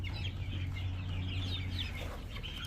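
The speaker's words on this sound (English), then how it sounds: "Those are meat birds." Meat chickens cluck softly in a barn setting, several short calls scattered over a constant low hum of equipment, faint and slightly distant, with no one speaking.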